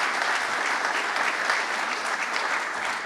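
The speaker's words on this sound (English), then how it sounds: "Let's give our great Lieutenant Governor a round of applause." An audience gives steady, dense applause for the Lieutenant Governor at the opening of the Western New York Welcome Center, a continuous even patter of many hands.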